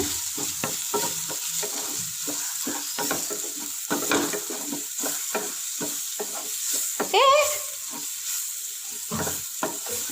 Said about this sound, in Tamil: இப்போ எல்லா மசாலா இதில் எல்லாமே கொட்டிக்கோங்க. நல்லா கிண்டி கொடுத்துக்கோங்க.